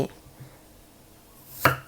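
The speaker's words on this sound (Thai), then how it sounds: "จริง ๆ ก็คือหั่นขวางลงไปอย่างนี้เลย" A knife slices crosswise through an onion for a Thai grilled catfish dish, giving two soft board taps and then one sharper, louder chop near the end, close and otherwise quiet.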